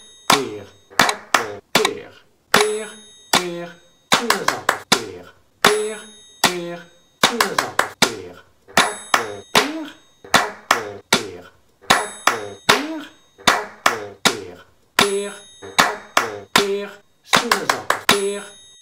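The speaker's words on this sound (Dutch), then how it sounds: "klap de woorden in de rij van vier die je in beeld ziet verschijnen" Hands clap out a steady, repeated rhythm in groups of four, sharp and close, with short pauses between the phrases and a voice speaking along.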